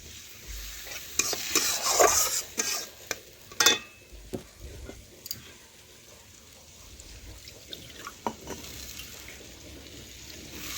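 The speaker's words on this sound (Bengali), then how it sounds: "আর একটু ভালোভাবে নাড়াচাড়া করে নিচ্ছি।" Mustard-poppy seed paste is stirred in a pan with a utensil, giving soft scraping strokes and clinks against the pan over a faint steady sizzle.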